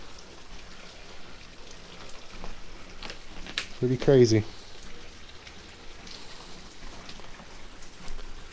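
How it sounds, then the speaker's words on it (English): Heavy, steady rain patters and hisses in the background, heard from inside an abandoned house, while a person speaks briefly partway through. "You're not supposed to hear that much rain coming from your house."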